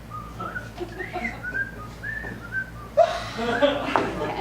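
A person whistles a bright, wandering tune in short melodic phrases, with some rustling and background chatter joining near the end.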